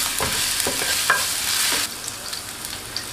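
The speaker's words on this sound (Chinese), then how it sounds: "下入我们的姜末和蒜末，把我们的姜末和蒜末炒香" Minced ginger and garlic stir-frying in hot oil in a wok, a steady close sizzle with a few scraping stirs of the spatula, the frying fading slightly toward the end.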